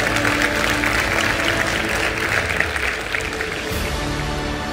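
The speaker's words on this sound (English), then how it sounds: "You can clap for that," An audience claps during a motivational talk, a dense continuous patter of applause that eases slightly toward the end, with no voices over it.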